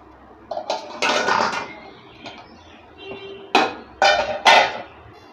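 A metal lid is set onto a dough-sealed clay pot of chicken dum biryani on a home stove, giving several sharp clanks and scrapes in separate bursts, close and fairly loud, with no talking.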